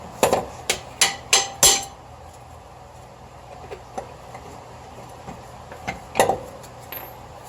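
Sharp metallic hammer blows drive a bolt out of the lower right front control arm on a WJ Jeep: five loud, closely spaced strikes, then a pause and a few lighter taps and knocks with no talk.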